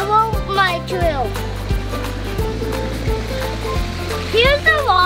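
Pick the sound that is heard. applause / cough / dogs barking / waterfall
waterfall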